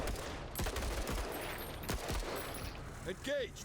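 Gunfire in the squad-tactics game Menace comes in several sharp, loud bursts close together, followed by a short whirring electronic sweep near the end, with no one talking.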